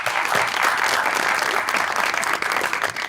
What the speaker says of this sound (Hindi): देखो फिर तालियां।